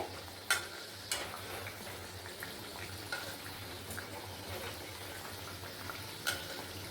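Jhal pua fritters with onion fry in hot oil, a steady, fairly quiet sizzle running throughout, broken by a few sharp clicks and taps of a utensil against the pan.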